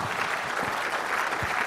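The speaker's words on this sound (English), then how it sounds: "Give him a round of applause." Audience applause at a Shmoocon security conference talk, a steady dense wash of clapping from a crowd that fills the whole moment without a break.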